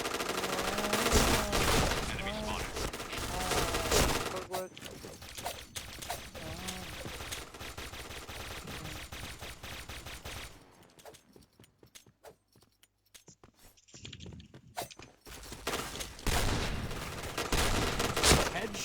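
Gunfire rattles through a video game shooter in dense bursts and sustained fusillades, loud and close, with a quieter gap midway before the shooting resumes, mixed with game effects.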